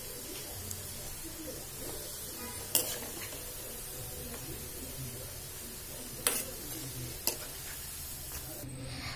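Freshly fried pakoras are lifted out of hot oil onto a plate in a home kitchen, with a few sharp utensil clinks spaced apart over a soft, steady background hiss.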